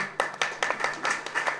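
Several sharp hand claps from an audience at a Christmas celebration event in Tiruchirappalli East, spaced unevenly and moderately close, with a steady low hum underneath.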